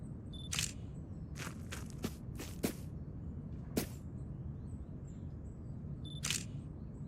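Camera shutter clicks while photographing a car in a video game, a scattered series of about eight crisp snaps, some in quick pairs, standing out clearly against a quiet background hum.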